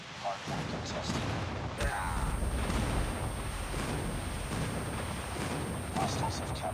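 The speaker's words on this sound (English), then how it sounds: "Friendly airstrike incoming" Dense rumbling airstrike explosions and gunfire from a Call of Duty Mobile hardpoint match boom without pause, loud and close, with brief in-game voice callouts over the top.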